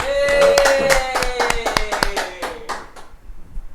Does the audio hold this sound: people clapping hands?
yes